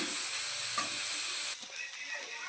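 Snake gourd with turmeric being stirred in a hot pan, a soft sizzle and hiss with scraping stirs, fairly close and continuous; the sizzle drops away partway through.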